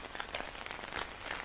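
Rain falling on a soggy day in rural New England, a steady patter of drops on surfaces with brief louder splashes, moderately close and heard alone.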